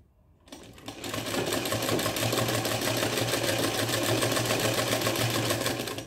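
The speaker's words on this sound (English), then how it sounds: "I'm going to take it just past the line and stitch." A sewing machine runs a seam just past a marked line. It starts after a brief moment of quiet and then hums loudly and continuously at a steady, rapid stitching pace for several seconds.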